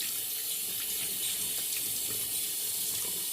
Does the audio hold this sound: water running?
yes